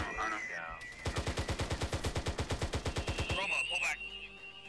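Rapid automatic gunfire from the video game Halo, a loud steady burst of about two dozen evenly spaced shots, with voices talking before and after it.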